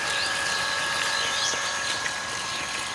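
Small solar-powered water pump motor running smoothly, a close, steady whirring hum with a constant tone and no breaks or talk.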